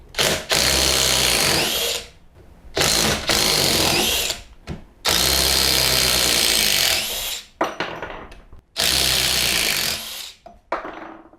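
Dewalt DCF850 compact impact driver sinking 10 cm screws into wood without a pilot hole, loud rattling hammering bursts that come in five runs of about one to two seconds, each separated by brief pauses.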